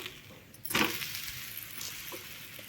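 Dosa frying in oil on a hot pan, a steady soft sizzle with a brief louder burst of crackling as the batter is turned, close and alone without speech.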